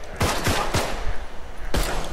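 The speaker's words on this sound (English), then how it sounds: "He fucking shot me" Several gunshots from the zombie shooter game Contagion ring out in quick succession, sharp broadband cracks spaced about a quarter-second apart, then a pause and one more loud shot near the end, with no talking.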